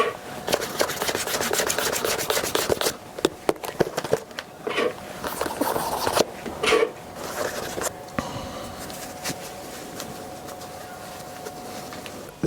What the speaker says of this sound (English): This is the new wax by Bootblack, and we're about to use this to high shine the shoes.